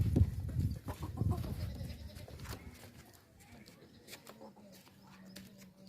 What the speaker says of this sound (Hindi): मक्खी चीना बकरा है, बहुत ही प्यारा और खूबसूरत बकरा है